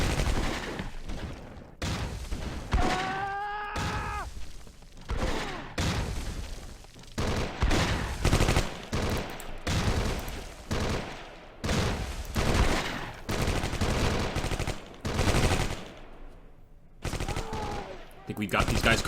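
Sustained battle gunfire from the WWII strategy game Close Combat Cross of Iron on the Eastern Front, dense bursts of rifle and machine-gun fire cracking in rapid succession throughout, with occasional brief voice callouts.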